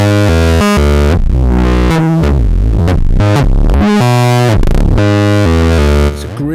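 Loud, crunchy modular synthesizer through tube distortion plays a run of changing notes, thick fuzzy overtones throughout, sustained and aggressive, ending in a brief quieter tail.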